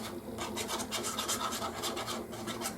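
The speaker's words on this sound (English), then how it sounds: "I'm going to go ahead and put some glue on that little flap right there on the very bottom one." Glue brushed onto a small paper flap at the bottom of a handmade paper box or bag: a steady, close scratchy rubbing in quick repeated strokes with no talking.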